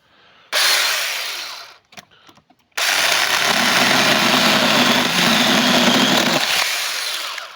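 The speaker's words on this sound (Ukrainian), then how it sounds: "Ось зараз покажу, як ріже, це вже затуплений цеп." A ProStormer cordless mini chainsaw with a dull chain cuts through wood, whining loudly up close in a short burst, pausing with a few small knocks, then grinding steadily through a longer cut before winding down.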